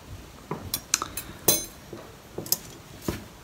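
Sterling silver spoons, one with full British hallmarks, clink lightly as they are handled, with several bright, separate chinks at uneven intervals in a quiet room.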